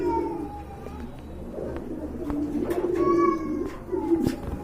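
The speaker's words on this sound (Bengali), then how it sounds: "চলেন বন্ধুরা, আমরা আর কথা না বাড়িয়ে ভাইয়ের কবুতরগুলো আপনাদেরকে দেখাই" A flock of pet pigeons coos in low, throaty calls that rise and swell, with sharper higher cries cutting in briefly, close and without talk.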